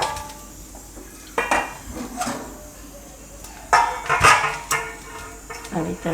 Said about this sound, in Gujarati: અને આ લોટ આપણે કાઢી લેવું બીજા વાસણમાં.